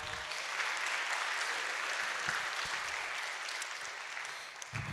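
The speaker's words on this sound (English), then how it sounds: "So can we give him a round of applause?" Even applause from a school awards crowd for a student athlete at a middle school athletic awards event, continuous mid-distance clapping that thins out near the end.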